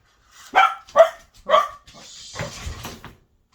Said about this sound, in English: Sorry about my puppy. He's a little crazy.